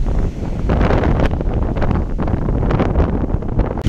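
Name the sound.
wind blowing on a beach in Fuerteventura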